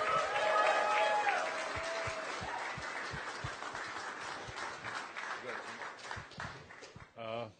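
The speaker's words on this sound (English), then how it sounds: "Big round of applause for Brooklyn's Nikosi Solomon." A crowd at a boxing press conference in New York for Anthony Joshua vs Povetkin applauds a fighter, a fairly soft, sustained wash of clapping that thins out over several seconds, with some voices mixed in.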